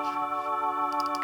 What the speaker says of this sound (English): the second one is a classic M1 organ patch